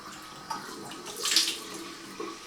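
Water splashing as a face is rinsed after a skincare product, a soft running-water wash with a louder splash in the middle, close and without talking.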